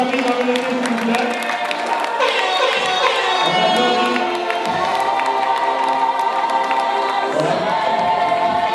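A crowd at a Bamiléké cultural day gathering in Rome cheers and applauds a family, a dense, lively wash of clapping and shouting voices that holds steady throughout.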